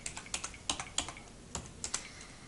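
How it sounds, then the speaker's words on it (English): Keys on a USB OTG computer keyboard are pressed one at a time, about a dozen irregular, faint clicks at close range. "you can just like scroll around by using up the arrow keys"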